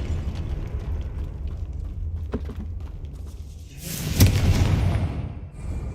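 Confringo blasting spell from the Hogwarts Legacy video game exploding inside a tomb by an altar, one close, loud booming burst that rumbles on for a couple of seconds over a low ambient drone.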